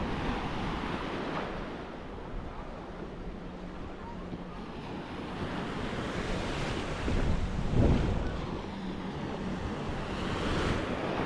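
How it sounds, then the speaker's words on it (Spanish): Sea waves on the Caribbean beach Playa Mamitas in Playa del Carmen roar steadily in a broad continuous wash with wind buffeting the microphone, swelling briefly near the end. "No hay nada mejor que disfrutar del mar cuando vives aquí en el Caribe"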